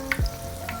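A short burst of sizzling from mixed vegetable pakora batter of potato, onion and cabbage dropped into hot frying oil, a close bubbling hiss that fades quickly.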